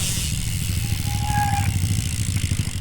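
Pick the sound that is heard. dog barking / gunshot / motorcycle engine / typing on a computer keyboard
motorcycle engine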